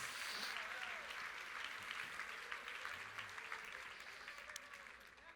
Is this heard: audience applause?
yes